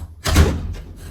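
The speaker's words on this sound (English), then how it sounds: "Close the door for me." A household door pushed closed, one dull thud with a short muffled rumble after it, close by and alone without voices.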